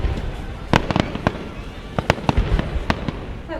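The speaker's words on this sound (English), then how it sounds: "they have a very big firework display in the" A big summer fireworks display at Lake Constance, with a rapid string of sharp bangs and crackling bursts at uneven intervals over a steady rumbling background.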